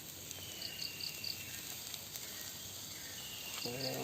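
Beef steak frying in a pan gives a steady, soft sizzling crackle throughout, with a faint voice near the end.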